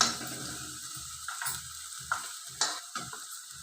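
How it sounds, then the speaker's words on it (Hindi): Coarsely ground masala roasts in a hot pan on low gas, a soft close sizzle broken by several scraping stirs at an uneven pace, with no talking. "इस प्रकार से मसाले अच्छे से भुन जाएं।"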